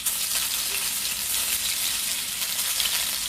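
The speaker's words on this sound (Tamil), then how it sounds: "இது நல்லா ஃப்ரை பண்ணணும்." Small shallots frying in hot oil for a crab pepper masala, giving a steady, even, close sizzle with a constant hiss and no pauses.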